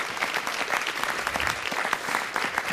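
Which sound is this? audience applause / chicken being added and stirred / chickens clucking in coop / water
audience applause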